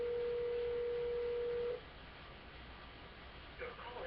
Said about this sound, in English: Scooby Ruby Radio is now making phone calls.